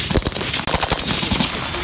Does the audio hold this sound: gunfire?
yes